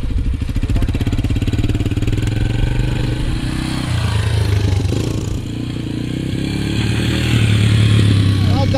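A small motorcycle idles and revs as it is ridden around, its engine rising and falling while starting and stopping, with people talking nearby throughout.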